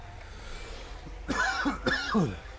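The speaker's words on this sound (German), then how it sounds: "Aber den Husten konnte ich gerade nicht vermeiden." A person coughs twice in quick succession close to the microphone, the coughs sharp and harsh over a quiet background hum.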